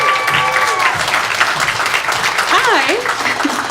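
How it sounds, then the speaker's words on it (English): Audience applause at an opening ceremony, loud sustained clapping from a crowd with voices and cheers mixed in throughout. "Let's give a round of applause here."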